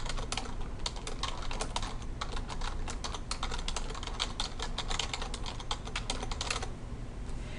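Steady, rapid clicking of keys on a computer keyboard as a title is typed into a form, close and continuous for several seconds without talk.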